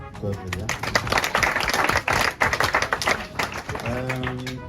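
An audience at the Pernod Ricard Music Live event claps and cheers together, a dense wash of applause with scattered taps, while a voice speaks over it at the start and end.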